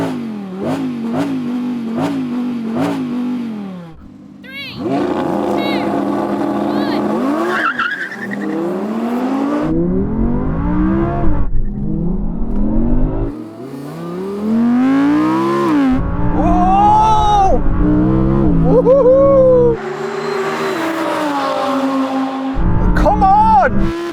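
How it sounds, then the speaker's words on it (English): A powerful Audi R8 sports car engine revs repeatedly, climbing and falling in pitch with loud rasping bursts, close by, with voices talking between revs. "go on, rev yours up"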